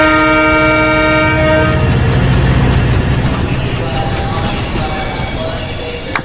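A loud train horn blares for about two seconds, then the rumble and clatter of rolling rail cars continue with squealing wheels close by.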